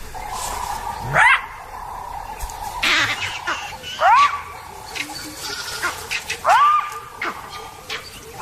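Sharp rising yelps and barks of jackals ring out a few times at irregular intervals, with shrill cries of green monkeys and chatter in the background.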